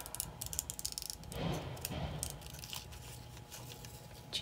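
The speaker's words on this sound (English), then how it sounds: "Oh, I hear the snowplow in our alleyway." A snowplow works along an alleyway in the background, sounding as if it runs into things. The recording is faint and distant, with scraping, crunching and rattling racket and a somewhat louder grinding stretch partway through. No one talks.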